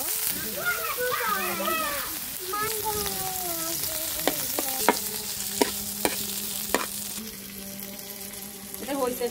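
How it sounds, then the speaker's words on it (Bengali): Dried hilsa fish fries in a pan: a steady hissing sizzle with several sharp utensil clicks and taps, and a person talking over the first few seconds. "এবার ইলিশ মাছের শুটকিটা ভেজে নেব।"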